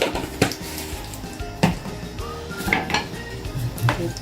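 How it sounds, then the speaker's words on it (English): A spoon stirs mixed herbs into a pot of potato and kiełbasa soup, with clanks and scrapes of metal against the pot, several sharp knocks among softer rattling, and no voices. "Give that a mix."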